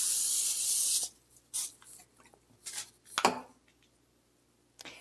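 A can of cooking spray hisses in one loud, steady burst onto pork chops. Scattered kitchen clatter and softer bumps follow the burst.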